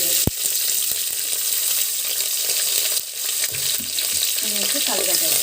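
Green chillies and curry leaves frying in hot oil with whole biryani spices for Andhra-style bagara rice, a steady close sizzle broken by spoon scrapes and knocks as the pan is stirred, no voices.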